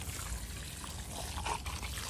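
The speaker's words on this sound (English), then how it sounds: "So I'm just adding some water in all of the cups and the soil." Water trickling and pouring into small cups filled with garden soil, a soft, continuous close-up dribble with a slightly brighter splash partway through.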